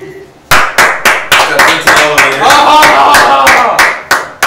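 A comedy club audience claps in sharp, rhythmic unison, about a dozen loud, evenly spaced claps, with voices talking and laughing underneath.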